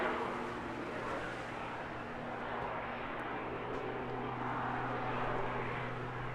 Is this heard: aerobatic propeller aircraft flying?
yes